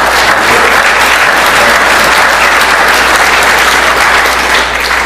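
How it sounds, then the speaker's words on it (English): Audience at a business and ecosystems think tank workshop applauds loudly and steadily, a dense wash of many hands clapping close by for several seconds without talk. "Give him a big hand of applause"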